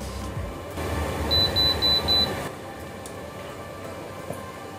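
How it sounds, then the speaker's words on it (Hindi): Four short, evenly spaced electronic beeps from an automatic hair curler signal that a curl is finished, sounding clearly over a low steady hum. "जैसे बीप बजेगा"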